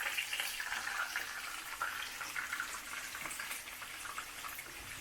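Chicken pieces deep-frying in hot oil for a Kerala-style chicken kondattam give off a steady, close sizzling hiss with fine crackling bubbles throughout, and no voices.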